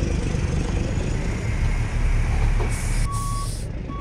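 A truck backs up in American Truck Simulator, its reversing beeper pulsing loudly over a rumbling idling engine, with a hiss of air brakes near the end.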